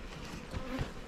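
Honeybees hum at a beehive entrance with a faint, steady buzzing, a couple of individual bees droning slightly louder as they pass nearby.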